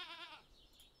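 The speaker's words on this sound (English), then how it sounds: "Now we have a goat." A goat bleats once in the farming video game Stardew Valley, a short wavering cartoonish cry that fades quickly into quiet background.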